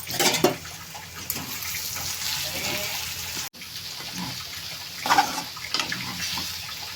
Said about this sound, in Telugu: వాటర్ పోసుకున్నాం కొంచెం నీళ్లు పోద్దామండి